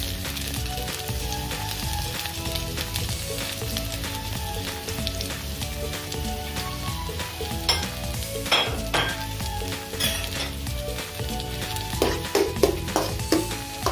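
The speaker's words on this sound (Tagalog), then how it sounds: "Habang ginigisa natin yung bawang." Garlic sautés in a pan for binagoongang okra, a continuous sizzle with stirring and sharp clinks of a utensil against the pan growing more frequent toward the end, under faint music.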